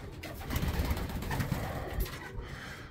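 Pigeons coo in a loft, their soft throaty murmurs overlapping and continuous against a busy background of rustling and other birds, close by with no talking.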